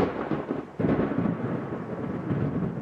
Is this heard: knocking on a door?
no